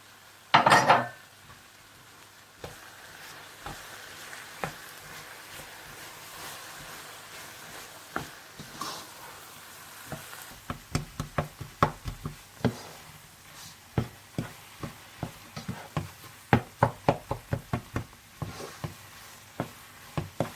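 A spoon stirs cream into gram lentil halva in a pan, giving a run of sharp, irregular metal clinks and scrapes against the pan that grows busier toward the end, with a faint background hiss and no talk.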